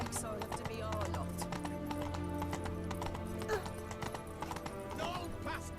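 Roach, the horse in The Witcher 3, clip-clops at a steady trot, with a brief whinny, over game music while characters talk.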